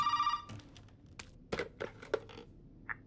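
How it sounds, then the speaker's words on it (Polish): A telephone rings in the Resident Evil VII: Biohazard horror game, a bright repeating electronic trill at the start followed by sparse clicks and knocks. "Teraz powinien zadzwonić telefon."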